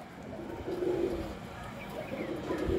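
Pigeons coo in soft, low repeated phrases close by, with a hen pigeon held in hand among a keeper's flock, while a voice speaks briefly in the background.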